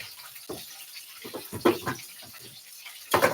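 About a cup of coconut water splashes into a blender in a series of short uneven gushes and spurts, moderately close, with quiet gaps between pours.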